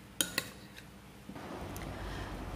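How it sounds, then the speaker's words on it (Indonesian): Kimchi ingredients stirred in a bowl: two sharp utensil clinks against the bowl near the start, then softer scraping and mixing, close and quiet. "Setelah itu kita aduk."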